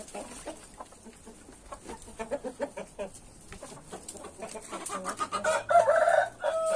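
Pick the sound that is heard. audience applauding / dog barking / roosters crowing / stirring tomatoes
roosters crowing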